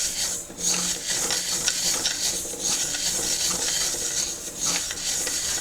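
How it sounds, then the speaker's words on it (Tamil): Mustard seeds roast in a dry pan, their steady rustling and crackling mixing with rhythmic scraping of a utensil against the metal, close and fairly loud throughout. "கடுகு கொஞ்சம் ஸ்ப்ளிட் ஆகும்"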